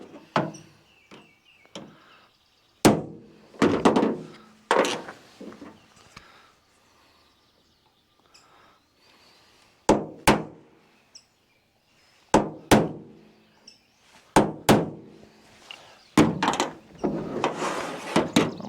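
Sharp metal hammer strikes drive a transfer punch on a 1972 PolarKraft boat, coming in loud, close clusters of several blows separated by quiet pauses, each hit ringing briefly.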